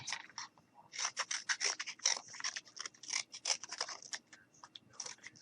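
Scissors snip through cardboard along a sketched shoe outline, giving quiet, close, rapid crisp cuts in uneven bursts with short pauses between them, and no speech.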